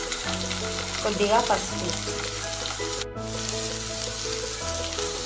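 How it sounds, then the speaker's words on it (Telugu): Tempering seeds and onion fry in hot oil for a ridge gourd curry cooked with milk, giving a steady close sizzle throughout, while a voice speaks briefly over it. "ఆయిల్లో పోపు విద్దులు ఉల్లిగడ్డ వేసుకొని ఫ్రై చేసుకోవాలి"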